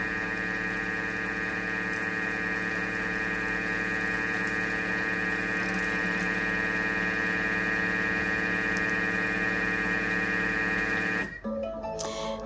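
An old kitchen machine whips ingredients, running with a steady loud motor hum and rattling vibration for about eleven seconds before it abruptly stops.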